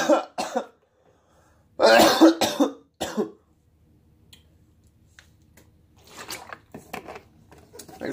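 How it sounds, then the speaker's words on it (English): Harsh coughing after taking a hit of cannabis: a couple of quick coughs, then a longer burst of two or three heavy hacking coughs close to the mic, followed by quieter rustling and faint breathy sounds. "I take tokes and I cough."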